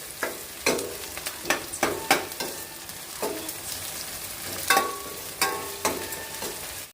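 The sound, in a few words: green chillies frying with onions in a pan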